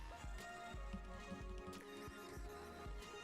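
Horses in a Geometry Dash mod make a quick run of hollow clip-clop hoofbeats at a steady rhythm, with a brief whinny mixed in, all under a bed of game music.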